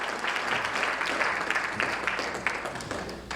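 A conference audience applauds a panel of industry experts, a dense, steady wash of clapping from a crowd that holds evenly for a few seconds with no speech on top.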